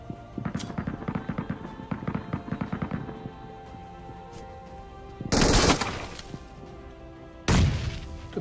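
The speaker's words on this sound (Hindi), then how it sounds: "तो देखो यहाँ पे मैं एक ग्रेनेड करता हूँ," A grenade thrown and exploding in the mobile shooter Free Fire: rapid popping gunfire bursts first, then two loud, broad blasts a couple of seconds apart.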